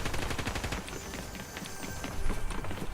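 Rapid gunfire in the video game Fortnite, a dense, continuous rattle of shots that swells louder toward the end, with no voices over it.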